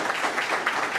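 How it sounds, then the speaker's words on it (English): A short burst of steady applause from a crowd at a city council meeting, a dense wash of clapping filling the whole moment without pause. "give them another round of applause."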